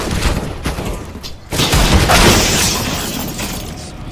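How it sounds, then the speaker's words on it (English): A flashbang grenade goes off in CS:GO, giving a sudden loud burst that settles into a sustained ringing wash of noise, with scattered gunfire cracking before it. "Throwing flashbang."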